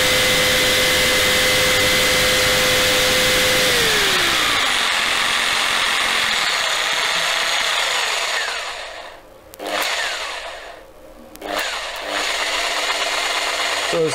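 A Bosch GST 160 BCE jigsaw runs at speed setting six with a loud, close, continuous mechanical whine that drops in pitch, then turns rougher and choppier as it cuts, with brief dips and surges in the last seconds.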